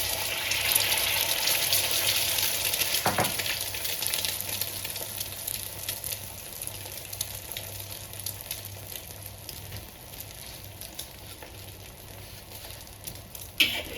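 An egg frying sunny side up in a pan for nasi lemak, a continuous loud sizzle and crackle of hot oil that slowly eases, with a light clatter near the end.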